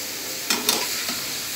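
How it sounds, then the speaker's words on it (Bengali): Vegetables stir-frying over high heat for a Chinese-style vegetable dish give a steady, close sizzle, with a few short scraping bursts from stirring in the pan. "এখন আমি ভালোভাবে একটু এগুলোকে ভাজা ভাজা করব চুলাটা কমাবো না অবশ্যই"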